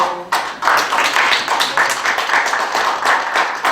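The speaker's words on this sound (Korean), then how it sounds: "박수 보내주시죠" Dense, steady applause from an audience at a women's business association gathering, continuous hand clapping that swells and holds for a few seconds with no speech over it.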